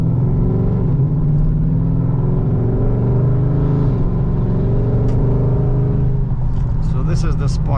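A Dodge Charger R/T with a 5.7L V8 gives a deep, steady engine drone as it pulls out to pass an old Chevy truck, rising in pitch toward the end while someone talks over it.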